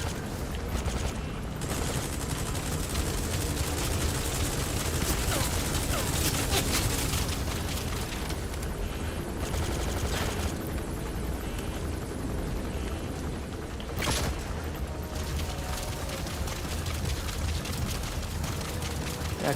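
Rapid gunfire from a gun in a video game rattles continuously in dense bursts, loud and close, with booming impacts layered under the constant firing and a sharp spike partway through.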